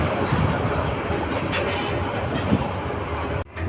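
The Tista Express on the Dewanganj Bazar to Dhaka line rumbles steadily as it slows near a broken bridge under construction. Wheel noise and carriage rattle stay loud throughout, then cut off abruptly near the end.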